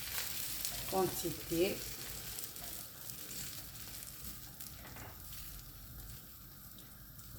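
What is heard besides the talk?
potato omelette mixture frying in hot small pan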